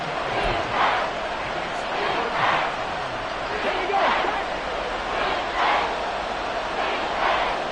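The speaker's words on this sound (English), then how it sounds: "The crowd's not doing that O-line any favors." Simulated stadium crowd in a Madden football video game, a broad roar of cheering that swells in repeated waves, with a commentator talking over it.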